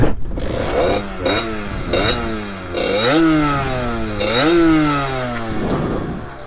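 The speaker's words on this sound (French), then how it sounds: "on démarre la 50 et c'est parti" A 50cc moped engine fires up and revs repeatedly, its buzzing pitch rising and falling in several sweeping throttle blips, loud and close with no talking.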